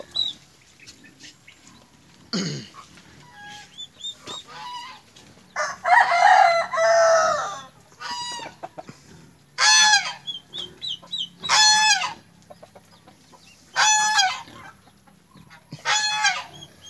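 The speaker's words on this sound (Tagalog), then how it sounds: "sila na po yung uubos ng pagkain ng ating mga manok" Chickens cluck and squawk around a farmyard in Bicol during feeding, with a rooster crowing loudly several times in repeated bursts over faint background noise.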